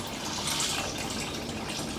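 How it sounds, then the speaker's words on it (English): Water is slowly poured off settled starch in a container while making liangpi cold noodles, giving a steady, close splashing trickle that runs on without pause. "We slowly drop the water."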